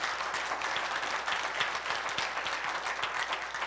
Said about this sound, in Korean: 우리 하나님께 영광의 박수 한번 합시다.